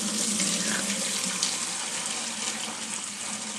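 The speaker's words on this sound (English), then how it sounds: "I'm just running it through the strainer into my 5-gallon bucket" Liquid Zote laundry soap with scent crystals pours steadily through a strainer into a 5-gallon bucket, a continuous close, fairly loud watery rush that stays even throughout without any talking.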